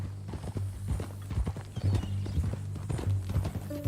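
Horse hooves clip-clop steadily and close in Red Dead Redemption 2, a brisk repeated rhythm of hoof strikes on a ranch at Beecher's Hope, with a low rumbling bed beneath.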